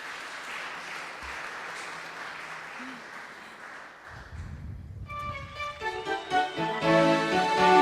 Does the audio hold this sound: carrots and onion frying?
no